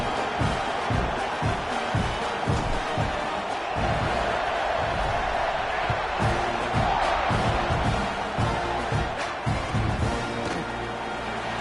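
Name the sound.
stadium crowd cheering at football kickoff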